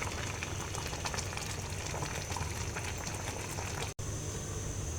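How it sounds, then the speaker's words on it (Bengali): Chicken simmers in a pan for lemon pepper chicken, a steady dense bubbling and sizzling hiss that runs unbroken and fairly close throughout. "খুব সুন্দরভাবে চিকেনটা সেদ্ধ হচ্ছে"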